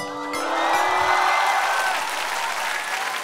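A television studio audience at a Korean singing competition broadcast bursts into applause, a dense, sustained clatter of many hands clapping that swells quickly and carries on steadily to the end.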